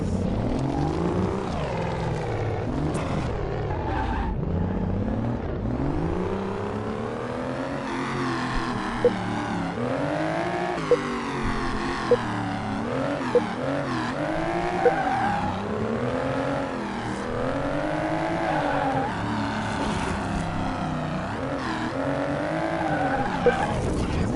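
A Mercedes AMG car in the Car Mechanic Simulator video game roars loudly and continuously, its engine revving up and down in repeated surges, with tire squeal and skidding layered over the engine note throughout and no voices.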